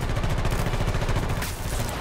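Sustained gunfire in the Battlefield 2042 video game during a multiplayer playtest, a steady loud stream of rapid shots for about two seconds with a brief lull near the end.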